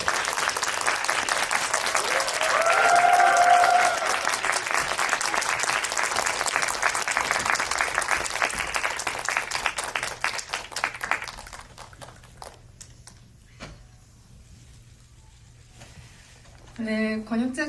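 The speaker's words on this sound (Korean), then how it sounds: "박수를 조금 길게 쳐줄까요?" A film screening audience gives long, sustained applause welcoming guests including actress Kim Tae-ri, loud and dense for about eleven seconds before fading into room noise; a voice speaks briefly near the end.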